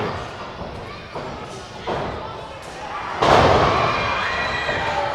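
A fighter's leg kick is caught and he is chopped down onto the mat, landing with a loud thud among a cheering, clapping crowd, with a commentator's voice over it.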